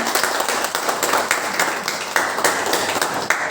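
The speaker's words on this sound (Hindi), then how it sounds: "बस जोरदार ताली" Audience at a career counselling meeting in a hotel in Islampur, West Bengal claps loudly and continuously, a dense burst of applause with a voice faintly under it.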